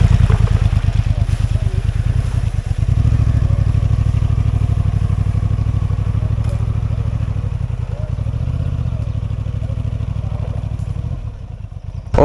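Honda Transalp 750 motorcycle ridden off-road on a slalom course, its engine a loud, steady close-up thrum with pulsing low rumble and rattling clatter that dips briefly near the end, with no talk.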